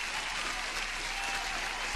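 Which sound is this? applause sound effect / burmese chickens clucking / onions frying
applause sound effect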